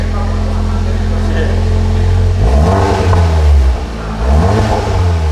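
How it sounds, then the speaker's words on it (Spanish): An Audi S3 with a Milltek GPF-back non-resonated exhaust idles with a steady drone, then revs twice in quick succession, each rev rising sharply and falling back, loud and close. "vamos a ver si montando la línea Miltech, que está de aquí, que acabamos de montar, aquí la veis, vamos a ver qué tal el sonido"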